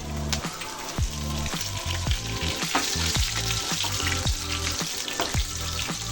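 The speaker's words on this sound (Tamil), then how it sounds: "புதினாவை இந்த மாதிரி நம்ம எண்ணெயிலே வதக்கி கொடுக்கும் போது" Mint leaves, with a little curry leaf, sautéing in hot oil for a pea kurma: a continuous loud crackling sizzle close by, broken by a regular rhythm of spatula strokes scraping the pan.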